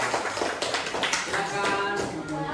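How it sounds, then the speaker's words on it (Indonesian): Students in an elementary school classroom clap for a group that has just presented, a dense, steady patter of many hands lasting a couple of seconds at moderate loudness, with faint voices mixed in. "Oke, tepuk tangan untuk kelompok 2."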